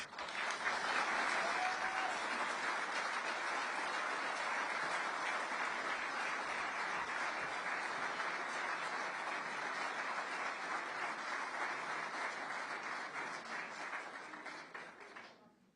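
Sustained applause from an audience at a political talk, a thick, even wash of clapping lasting many seconds before tapering off at the close.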